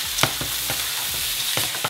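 A spoon stirs black beans and frozen corn in a pan, producing a soft continuous sizzle broken by repeated scraping strokes at an uneven rhythm, close up with no voices.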